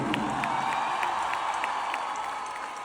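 Applause and cheers rise from the audience at a concert right after a marriage proposal, a dense, steady clapping crowd with rhythmic beats faintly audible through it.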